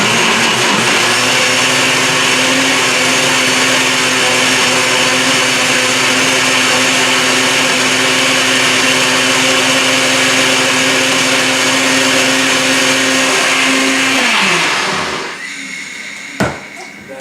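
A kitchen blender whirs loudly and steadily for about fourteen seconds while mixing a homemade meal replacement shake, then winds down and stops, leaving a few soft knocks.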